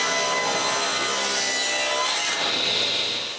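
Wood boards ripped to width for a bathroom vanity base in a woodworking shop: a continuous, loud, close saw roar that shifts in tone partway through and tails off at the end, no voices.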